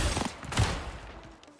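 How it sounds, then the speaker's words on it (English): Gunfire from an AVZ 100 rifle in Off the Grid, heard as a quick burst of close, sharp shots that trail off into a fading echo. "Okay, so we took 4 bursts to the chest."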